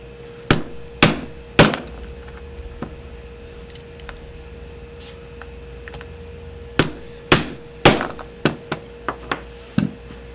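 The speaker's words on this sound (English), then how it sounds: "My new Jockey rivet setter." Jockey rivet setter struck with a hammer during saddle making, sharp ringing blows in two clusters, three spaced hits, then a faster run of strikes a few seconds later, close and loud.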